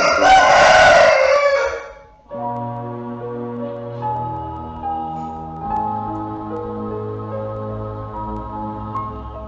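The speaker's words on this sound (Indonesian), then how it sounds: "Pada pagi ini yang sertai ayam berkokok" A rooster crows loudly once at the start in the morning, a long ragged call followed by quiet, and then sustained background music with no speech.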